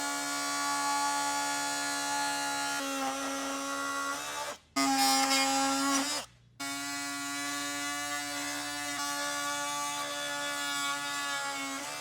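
A high-pitched power tool whines steadily while cutting plastic fender flares on a 2024 Toyota Tacoma, pausing twice briefly and restarting, loud and close.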